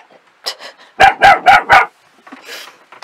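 A dog barks close by near a camper van, a sharp burst of four loud barks in quick succession framed by softer yips and whimpers.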